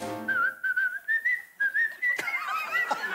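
A person whistles a simple tune in wavering held notes, close and clear, followed by a brief burst of other noise at the end.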